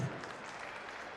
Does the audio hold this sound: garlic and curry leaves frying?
no